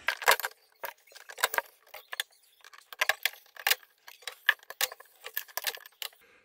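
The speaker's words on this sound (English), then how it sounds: "Go ahead and cut those zip ties off." Zip ties being cut off behind a Frigidaire ice maker in a freezer, a series of sharp close clicks and plastic snaps in irregular bursts with short pauses between.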